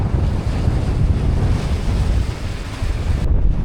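Sea waves break against a rocky coast in the Scottish Highlands, a steady loud wash of surf mixed with strong wind buffeting the microphone, with no speech.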